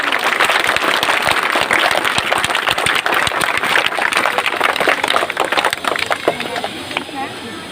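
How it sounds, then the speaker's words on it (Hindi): A school event audience claps loudly and steadily, dense applause from many hands that thins and fades slightly toward the end. "आप लोग की ताली में दम नहीं है"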